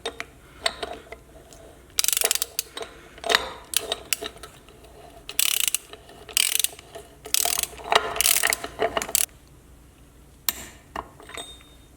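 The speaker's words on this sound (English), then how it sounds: "We're just going to torque it down to 50." A torque wrench ratchets in repeated clicking bursts while tightening the outer jam nut on a Dana 60 axle for a 1979 Jeep Cherokee Chief, close-up and mechanical, with brief pauses between strokes.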